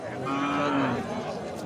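A dairy cow, Sahiwal or local breed, at a cattle market gives one drawn-out low moo close by, with faint crowd murmur in the background.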